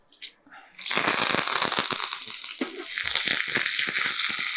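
Mustard seeds, two chillies and fresh curry leaves hit hot oil for a tempering: after a brief quiet handling sound, a loud, sudden burst of crackling sizzle fills the rest, sputtering with rapid pops and staying close and intense.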